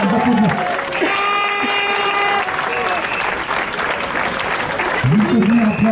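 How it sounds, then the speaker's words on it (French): Applause from an audience at a French political meeting, steady dense clapping filling the whole stretch, loud and close, with voices talking over it at the start and end. "on peut encore les applaudir"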